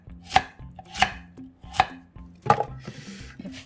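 Radish being chopped on a cutting board while preparing kimchi, four sharp knife strikes at a steady pace, close and fairly loud, with a little board rattle and no talking.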